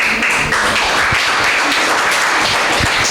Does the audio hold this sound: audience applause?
yes